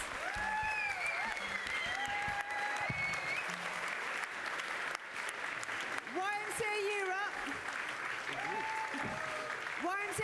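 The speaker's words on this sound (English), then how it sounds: "So I want you all to stand up and give yourselves a jolly big round of applause." Applause from a hall crowd at the closing ceremony of a youth general assembly, continuous and fairly distant, mixed with voices and a tonal melodic sound that rises and falls over it.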